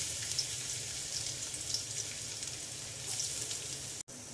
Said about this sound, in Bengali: দিয়ে দিচ্ছি রসুন কুচি